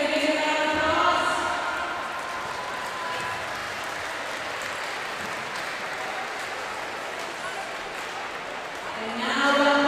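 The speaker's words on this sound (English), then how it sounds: "Give them a big round of applause" Applause for the winning team, Croatia, at an under-23 tournament final: sustained crowd clapping filling the space, loud at first, then settling to a steady roar and swelling again at the end, with a voice over it near the start and end.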